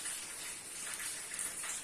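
Steady rain falling outdoors during the monsoon, an even, moderately soft hiss of drops that runs unbroken with no talk over it.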